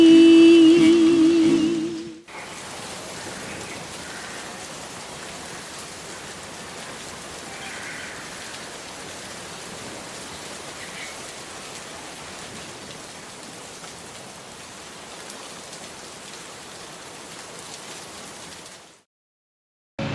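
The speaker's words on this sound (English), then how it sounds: "when are these monsoon rains gonna end?" Monsoon rain pours steadily in India, a dense, even hiss of falling rain that holds for over fifteen seconds after a brief snatch of music, then cuts out.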